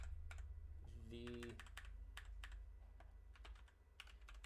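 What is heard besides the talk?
typing on a computer keyboard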